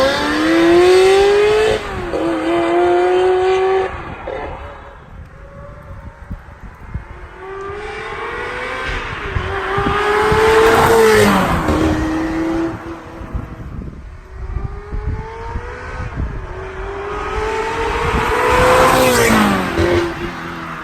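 Ferrari F355 with a 3.5-litre five-valve-per-cylinder engine revving repeatedly, three loud rising howls that climb sharply and drop back, close up and alone with no talking.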